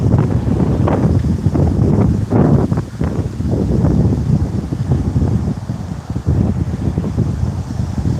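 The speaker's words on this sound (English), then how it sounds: "Whole damn day it's been raining and windy." Strong wind gusts buffet the microphone outdoors during a rain and wind storm among trees, a steady loud roar with rustling bursts and no speech.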